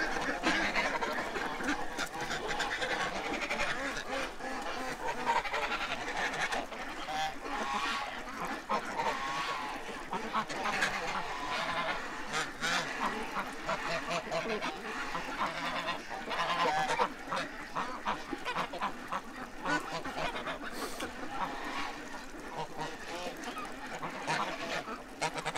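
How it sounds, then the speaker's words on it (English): Geese honk and squabble in a serious fight among males, a dense, continuous clamor of overlapping harsh honks and cackles from a flock, with faint voices under the commotion. "Yeah, a serious goose fight going on."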